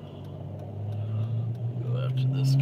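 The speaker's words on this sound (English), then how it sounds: "Busy ass street here. Trying to make a left turn." Cars on a busy street rumble past a vehicle waiting to turn left, a steady close engine drone that grows slightly louder, with a driver's voice talking over it.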